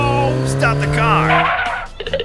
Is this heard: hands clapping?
no